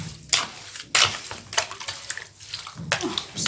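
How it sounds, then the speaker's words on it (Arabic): Sugared orange pieces are stirred in a bowl, making close, wet, irregular scraping and squelching bursts with brief pauses between strokes. "انا هقلب فيه شويه كده"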